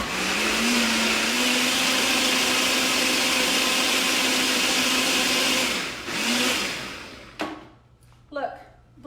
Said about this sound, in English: This is my little Ninja blender